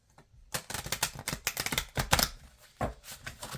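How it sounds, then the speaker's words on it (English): Tarot-style destiny cards are shuffled and pulled, giving a quick run of crisp riffling clicks and taps followed by a couple of separate card snaps, close and quiet. "let's just pull these destiny cards"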